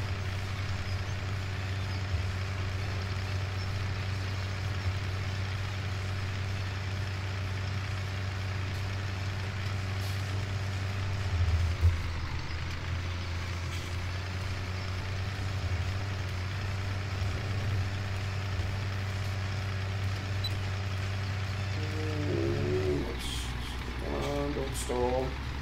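Tractor engine in the Farming Simulator video game, a steady low idling drone throughout with a brief shift in the middle and a change in tone near the end.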